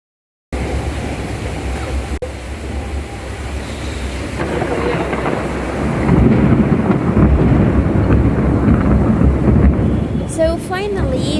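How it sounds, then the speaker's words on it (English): Thunder during a rainstorm in Alexandria, Egypt rolls as a low, heavy rumble that builds and grows louder toward the end, with faint background hiss. "Lightning and thunder."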